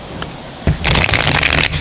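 A deck of tarot cards is given a brisk riffle shuffle, one close, crisp burst of fluttering cards lasting about a second after a light tap.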